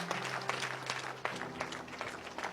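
A church congregation applauds in worship, a steady, fairly faint patter of many hands clapping with a few sharper claps, with low voices and a sustained musical tone underneath.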